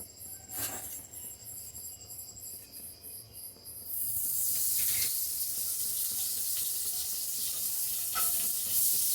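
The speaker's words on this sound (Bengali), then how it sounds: "কড়াইটা গরম হয়ে গেছে, এখন একটু বাটার দিয়ে দেবো।" Butter sizzling in a hot nonstick kadai while pizza is prepared at home, a faint crackle that swells at about four seconds into a loud, steady broadband hiss with scattered pops, no voices.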